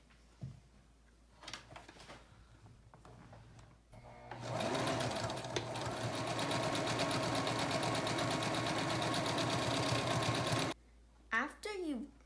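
A sewing machine stitches face mask lining fabric in one long, steady whirring run of several seconds, with a few short clicks and handling noises before it starts and after it stops.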